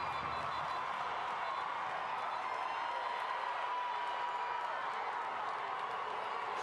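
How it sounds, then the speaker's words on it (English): Stadium crowd at a women's soccer match roaring for a goalkeeper's big save, a dense, sustained cheer heard at a distance. "Crowd loving it."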